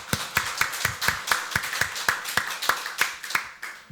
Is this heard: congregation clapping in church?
yes